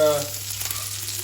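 Blood sausage frying in butter in a pan, a steady close sizzle and crackle throughout the short stretch, with no talk.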